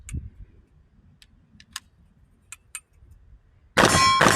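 Bullets from a Smith & Wesson M&P15 Sport III rifle strike distant steel targets with several short, sharp metallic pings spread over a few seconds, followed by a loud, close burst at the end.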